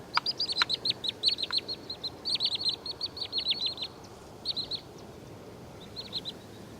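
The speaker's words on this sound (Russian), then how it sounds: "При опасности или беспокойстве птица издает резкие громкие звуки тек-тек-тек." A wood sandpiper (Tringa glareola) gives sharp, loud, rapid 'tek' alarm calls in quick runs, then shorter scattered bursts, set against a steady outdoor background hiss.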